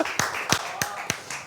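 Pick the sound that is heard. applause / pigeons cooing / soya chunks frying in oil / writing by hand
applause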